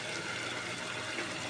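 Pechay cabbage leaves being washed in water: a steady, close wash of running and splashing water with no pauses and no talking.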